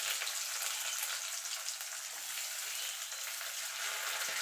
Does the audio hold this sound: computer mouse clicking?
no